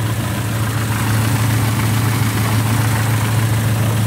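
A 1950 Sunbeam Talbot 90 engine idles shortly after a cold start, a steady, smooth low hum with an even rumble, close and loud, holding constant throughout with no voices.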